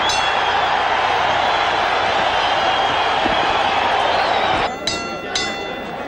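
Boxing arena crowd roaring loudly and continuously after a fight reaches its final bell, a dense, steady wall of cheering and shouting with some sharp clinks and bangs near the end.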